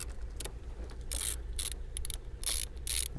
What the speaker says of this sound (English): we're going to take our size 10 socket and we're just going to loosen this nut